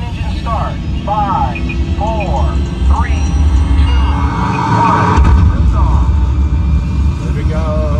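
Simulated rocket main engine rumble on the Mission: SPACE ride at EPCOT builds as a low, steady roar, with voices talking over it.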